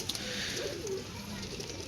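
A pigeon gives a soft, low coo among other pet pigeons, faint and brief over a quiet background with no talking.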